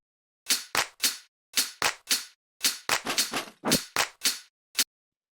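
Sparse, dry percussion hits from an electronic music track in a warped, organic style: a quick run of sharp, clicky transients in uneven rhythmic bursts with short gaps between them, with no voices.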